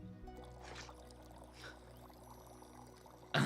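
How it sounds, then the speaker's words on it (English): Liquid poured onto a character's face in a video game, a soft continuous pouring trickle running under a steady game background hum, ending with a brief louder burst. "Oh, I can pour it on his face."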